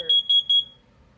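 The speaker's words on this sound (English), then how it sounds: "you're going to find a CO2 detector as well as a smoke detector" Smoke detector beeping inside a 2016 Heartland Resort 42FLD RV: three short, sharp high-pitched electronic beeps in quick succession, close and clear, fading into quiet.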